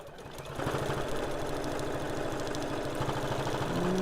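A sewing machine stitches through foam, a rapid rhythmic mechanical thump starting softly, then running steady and close with a brief higher whine near the end.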